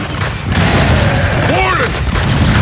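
A shock grenade going off in Gears 5 horde gameplay: a loud, close booming blast with a sizzling electric whine sweeping through it, amid ongoing combat noise.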